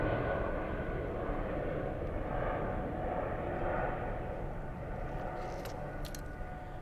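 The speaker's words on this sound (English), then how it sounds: "We have the big 777 stealing the spotlight. Coming in on runway" A Boeing 777 landing on runway 28 at Zurich airport produces a steady, distant engine roar that holds level throughout, with a couple of faint higher clicks late on.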